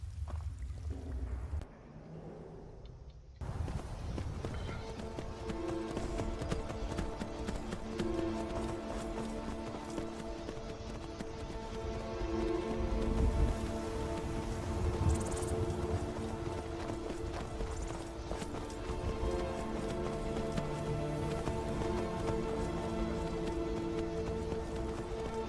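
Rapid hoofbeats of a horse galloping in the video game Skyrim, a dense continuous clatter running for about twenty seconds over game music and ambience.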